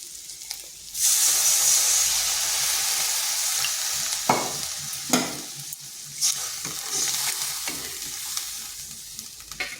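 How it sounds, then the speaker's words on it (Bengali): Water poured onto spices frying in a pan for a green plantain vegetarian dish, a sudden loud hissing burst that settles into a steady sizzle, punctuated by a few sharp scraping stirs, close and without talk. "মশলাটার সাথে একটু কষে নিচ্ছি। এরপর দিয়ে দিচ্ছি জল।"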